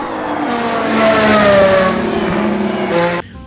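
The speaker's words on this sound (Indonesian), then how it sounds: "mobil Formula One teman-teman" An orange toy Formula One race car roars steadily with a high whining engine tone and tire-squeal-like sweeps, loud and continuous for about three seconds before cutting off abruptly.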